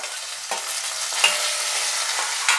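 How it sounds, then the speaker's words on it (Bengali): Tomatoes with garlic, coriander, cumin and turmeric fry and get stirred in a pan for paneer khichdi, giving a steady close sizzle with scraping strokes of the spoon and no voices. "এই সব মশলা দিয়ে এবার একটু ভাজা ভাজা করব"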